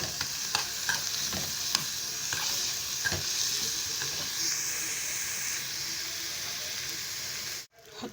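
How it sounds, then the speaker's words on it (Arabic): Chopped chard and coriander greens sizzling in hot ghee in a pan, a steady close hiss with scattered scraping and clinking as they are stirred, ending in an abrupt knock. "حطيت حته سمنه كده هنزل فيها الخضره. نزلت الخضره اللي هي السلق والكزبره اللي انا خرطتهم"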